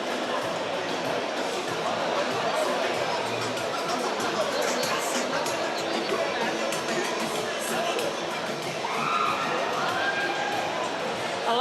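Busy Friday evening crowd in Chinatown, Singapore, a steady dense babble of many voices with background music and occasional louder calls, continuous and moderately distant.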